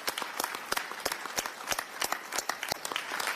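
A small audience at a plenary session applauds, irregular individual hand claps ringing out close and crisp with gaps between them, a sparse, scattered round of clapping.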